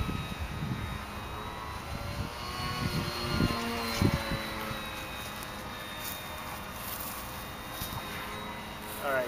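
A Blu-Baby Night Owl RC airplane flies outdoors, its electric motor making a thin whine that rises and falls as it passes, with some nearby bumps and handling noise.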